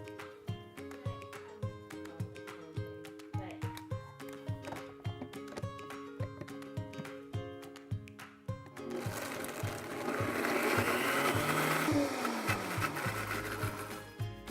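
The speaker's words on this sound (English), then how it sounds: "Basically, half a cup of basil leaves, quarter cup of olive oil, blended and heated up. We have a Vitamix here" A Vitamix blender whirs through basil leaves and olive oil, first a rhythmic chopping pulse, then a loud, dense roar that rises as the blades spin up fully, close and continuous.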